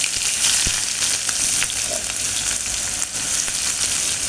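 Onion fries in oil with garlic and asafoetida, a loud, dense sizzle close by that holds steady throughout, with a few sharp pops and light stirring ticks.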